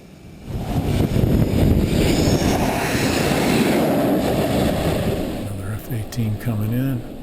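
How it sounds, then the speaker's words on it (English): A jet landing on the deck of the USS Nimitz aircraft carrier, catching the arresting wire and going to afterburner, gives a loud, sustained engine roar that fills the clip, with voices talking over the end. "they slam it into afterburner in case for some reason they miss the wire"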